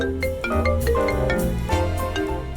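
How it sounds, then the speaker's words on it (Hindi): A doorbell's bright chiming tone rings out in a repeating melodic pattern of several notes, loud and close with no voices. "अरे ये तो डोरबेल है।"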